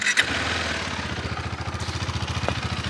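A Royal Enfield Himalayan 452 motorcycle starts with a sharp burst, then settles into a steady, rhythmic, thumping idle, close and fairly loud, with no voices.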